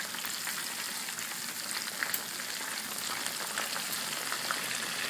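Breaded chicken cutlets fry in a pan of oil with a dense, steady sizzle and crackle throughout, with a few faint clicks or knocks rising briefly above the hiss.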